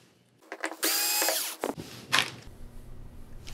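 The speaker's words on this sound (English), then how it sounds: "let's get this screw removed and get this whole piece removed" A power screwdriver whirs in a short burst and then a second, briefer run as it backs a screw out of a Sony XBR-49X800G television, with faint clicks and handling noises around it and no talk.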